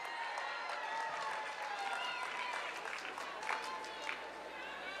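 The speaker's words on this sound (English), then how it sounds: "Please honor all the bachelor's degree awardees with your applause." A commencement audience applauds the bachelor's degree recipients, a steady and dense wash of clapping from a large crowd that is heard from a moderate distance and holds an even level throughout.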